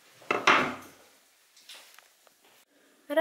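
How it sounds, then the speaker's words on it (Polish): A few knife strokes chop rhubarb stalks into pieces on a cutting board, a loud crunchy cut first, then softer cuts with quiet gaps between. "Kroję na mniejsze kawałki."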